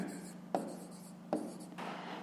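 Pen or pencil writing on paper for a math exercise, a faint close scratching with a couple of sharper taps as strokes begin, quiet and continuous with no talk over it.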